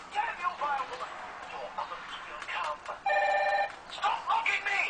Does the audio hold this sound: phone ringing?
yes